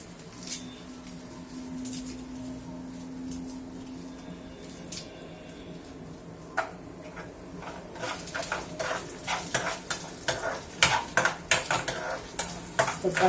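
Coriander seeds, chana dal and urad dal are dry-roasted in a pan for coconut chutney: faint sizzling at first, then increasingly frequent rattling clinks and scrapes of a spatula against the metal pan.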